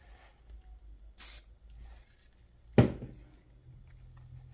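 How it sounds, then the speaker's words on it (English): A short hissing burst from a hairspray aerosol can sprayed over resin, followed by a brief thud and quiet background. "grab my hairspray and give it one spray"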